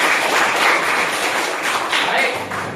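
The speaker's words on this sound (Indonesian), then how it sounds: "Tepuk tangan untuk yang nilai tertinggi ini." Classroom applause for the top-scoring pupil after a test, a steady wash of clapping from a group of students that carries on without a break, with some chatter mixed in.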